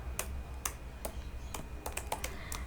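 Code being typed on a computer keyboard, a brisk, uneven run of close, crisp key clacks with short pauses between bursts, alone without any voice.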